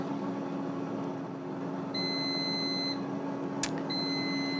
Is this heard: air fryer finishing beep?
yes